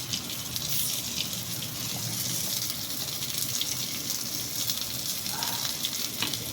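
Stuffed bitter gourd sizzles in a lightly oiled pan as the pieces are turned. A continuous close crackle with a few small clinks runs throughout, and no one speaks.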